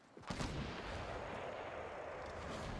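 In the Fortnite video game, a sniper rifle shot cracks out sharply, then a long rumbling roll of echo lingers, moderately loud with no voices.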